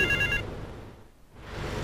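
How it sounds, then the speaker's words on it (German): Telephone ringing in GTA 3, a bright electronic ring at the start that cuts off, followed by a dull ambient lull and then returning noise. "das Telefon klingelt schon wieder"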